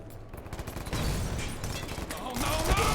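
Dense, rapid gunfire from the shooter video game Ballistic Overkill forms a continuous, loud clatter of overlapping shots that fills the whole stretch, with a voice mixed underneath.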